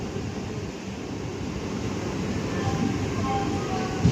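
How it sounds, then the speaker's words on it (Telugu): Train at Eluru railway station, a loud steady low rumble of rolling carriages throughout, close and continuous with no speech. "ఏలూరు రైల్వే స్టేషన్ ఇది"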